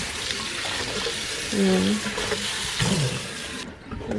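Tap water runs steadily into a sink as raw chicken is rinsed, a close, continuous splashing stream with brief speech over it before the flow cuts off near the end.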